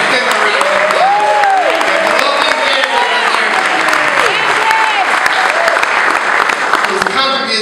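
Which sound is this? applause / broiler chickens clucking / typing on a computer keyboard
applause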